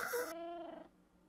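A single short cat meow from a Minecraft cat, faint and brief, fading out quickly into quiet.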